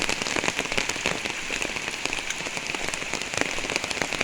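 Heavy rain pours down on a village, a dense, even hiss of drops pattering on surfaces, close and constant from start to finish with no voices.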